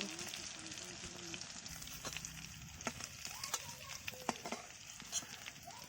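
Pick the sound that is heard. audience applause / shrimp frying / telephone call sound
shrimp frying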